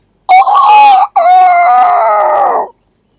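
A mimicry artist loudly imitates a native village rooster crowing at dawn, one long drawn-out call with a brief break, rising then trailing off.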